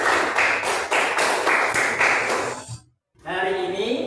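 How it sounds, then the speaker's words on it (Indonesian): Classroom children clap their hands together in a brisk, even rhythm of loud claps for over two seconds, then stop abruptly; after a short silence a voice speaks. "tepuk tangan."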